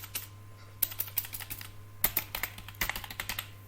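Product names typed on a computer keyboard into an Excel sheet: quick irregular key clatter in bursts, close and clear over a faint steady hum.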